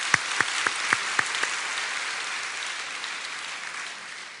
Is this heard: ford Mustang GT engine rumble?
no